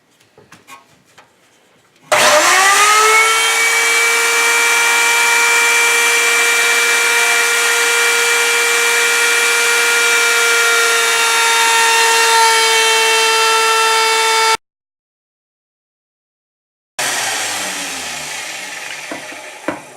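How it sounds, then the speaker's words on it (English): A router with a carbide bit trims aluminum edges, spinning up to a loud, steady high-pitched whine that holds for about twelve seconds, cuts out abruptly, then returns briefly while winding down. "Okay, so we got the edges trimmed on the router"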